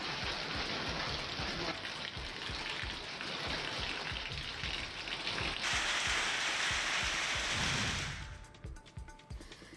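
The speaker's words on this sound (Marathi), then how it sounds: "उमरगा परिसरामध्ये गारांचा पाऊस पडला असल्याचं बघायला मिळतंय" Steady heavy rain pours down with sharp pattering hits of hail striking a surface, then the downpour cuts off abruptly near the end.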